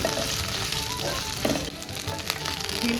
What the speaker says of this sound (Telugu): పచ్చిమిరపకాయలు అండ్ ఎండుమిరపకాయలు రెండు వేసి వేయించుకోవాలి